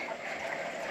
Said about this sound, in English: I enjoy listening to the waterfall.